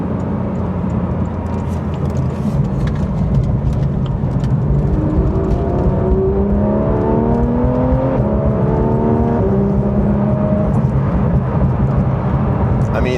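Porsche 911 GT3 RS engine revving hard while driving, a loud continuous roar with rising and falling pitch sweeps through the gears, heard from inside the car.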